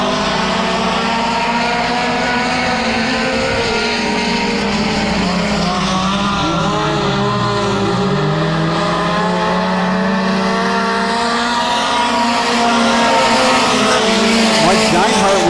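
Mini stock race cars roar around a dirt track as the green flag drops, a loud continuous blend of revving engines with pitch rising and falling as cars pass, while an announcer talks over it.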